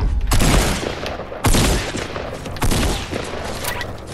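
Loud bursts of gunfire from the Fortnite video game, three heavy volleys at roughly one-second intervals with rattling shots in between, close and dominant.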